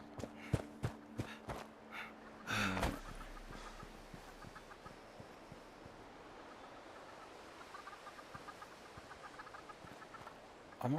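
Mutated chickens in the Fallout 76 video game let out a few quick clucks near the start. A soft, constant ambient wash with faint footstep-like ticks follows.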